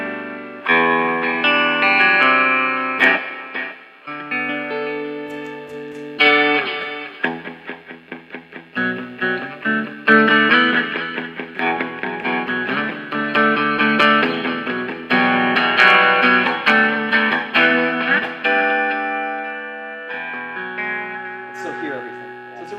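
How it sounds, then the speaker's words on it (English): A JE20 electric guitar in split-coil mode plays sustained chords and single notes drenched in reverb and delay, making a wide, washy tone with distorted edges and ringing trails, loud and close throughout. "you can kind of ramp up your reverb and delay and kick in some stuff to where you get a nice washy tone"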